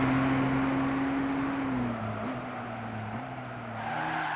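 A 2012 Nissan GT-R on a race track drifting through a corner toward the finish line, its engine droning steadily with a sustained tyre squeal layered over it, the pitch dipping briefly midway before rising again.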